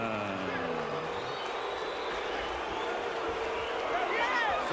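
Crowd at a boxing match reacting against a unanimous decision, a steady roar of boos and shouting from many people, mixed with a commentator talking over it.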